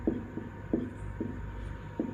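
Pen or chalk writing out a maths equation, in short scratchy strokes that come in a loose rhythm of about five bursts, close and clear over a faint low hum, with no talking.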